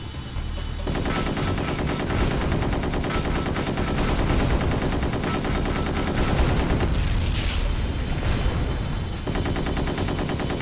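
Defense guns in the 2003 PC game GunMetal fire in a continuous, loud, rapid barrage lasting the whole stretch, with steady rattling bursts and no pauses.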